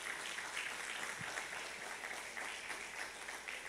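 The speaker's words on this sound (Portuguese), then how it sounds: "Pode aplaudir o Senhor." A church congregation applauds in steady, dense clapping that fills the space evenly from start to finish, a broad wash of many hands heard at a distance with no clear voices above it.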